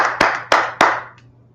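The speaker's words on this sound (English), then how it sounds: "Clap it up for the class." Three sharp claps in an even rhythm for a class in a prison, close and loud, followed by a faint fourth clap as it trails off.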